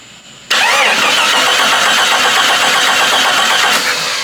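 A Jeep 4.0L engine being cranked with a gauge screwed into cylinder one begins after a half-second of quiet, then spins over loudly and rhythmically close up without firing.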